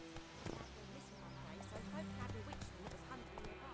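Hooves of the horse Roach in the Witcher 3 video game, quick clip-clop steps under a voice speaking over them, with game music in the background.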